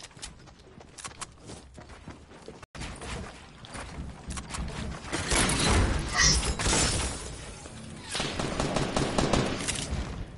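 Fortnite gunfire rattles almost nonstop in dense automatic bursts, loud and close, with shattering crashes mixed into the barrage as it swells toward the middle and again near the end.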